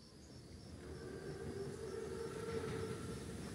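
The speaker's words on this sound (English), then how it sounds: "Train's right on time. Biggest train I've ever seen." A huge German armored train, a Panzerzug, runs along the track in the World War II game S.O.E., a faint, steady low rumble with a thin whine that slowly swells and carries on without voices.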